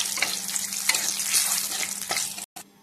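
Cumin seeds, green chilli and a bay leaf hit hot oil in a wok, giving a close, bright sizzle with sharp crackles and stirring, which cuts off abruptly near the end.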